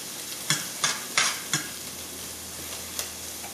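Onions fry over high heat in a pan under a steady hiss, broken by five or six sharp stirring scrapes early on and one more near the end, with no talking.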